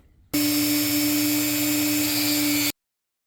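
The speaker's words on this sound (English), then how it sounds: "I'm going to take my Dremel tool and I'm going to go around all the edges," A Dremel rotary tool rounds the edges of scrap wood, a steady high-pitched whine that starts abruptly, holds for a little over two seconds, then cuts off, close and loud.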